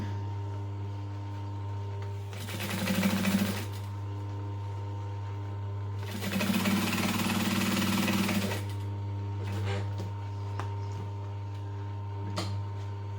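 A sewing machine stitches 1/8 inch alongside a seam in two short bursts, each a couple of seconds long, over a steady low motor hum, with a quiet pause between them.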